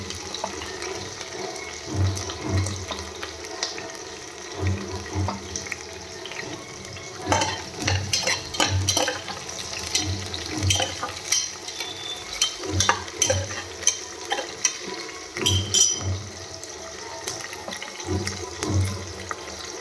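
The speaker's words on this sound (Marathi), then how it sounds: "त्यानंतर लगेच आपण जे लसूणचे स्लाईस करून घेतलं आहे ते आणि थोडीशी कोथिंबीर त्याच्यामध्ये ॲड करू" Garlic slices and coriander go into hot oil in a pressure cooker and sizzle and crackle. Stirring scrapes and clatters come intermittently through a steady background hiss.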